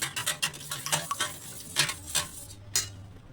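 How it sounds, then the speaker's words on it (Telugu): A thick millet malt porridge made with buttermilk and water bubbles in a pot, close up, with irregular soft pops and plops over a quiet background and no speech. "చూడండి ఇప్పుడు ఎలా మరుగుతుందో"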